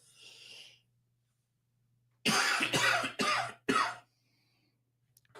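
Several harsh coughs burst out in quick succession, close and loud, after a stretch of near silence with faint breathy noise at the start.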